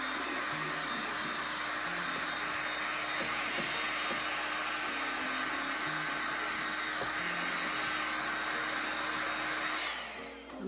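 A tumbler sublimation heat press heating up gives a steady, continuous whirring hum with faint tonal lines, holding even for about ten seconds before easing off at the very end.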